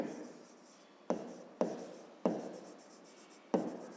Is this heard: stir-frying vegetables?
no